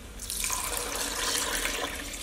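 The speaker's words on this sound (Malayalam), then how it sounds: "അതിലേക്ക് 1 ഗ്ലാസ്സിന് അതേ സെയിം ഗ്ലാസിൻ്റെ അളവിൽ 2 ഗ്ലാസ് വെള്ളം ചേർക്കുന്നുണ്ട്" Water runs steadily into a pot of rice, two glasses' worth being added for a quick chicken rice dish, a continuous close pour with no talk.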